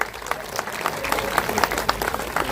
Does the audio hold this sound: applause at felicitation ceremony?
yes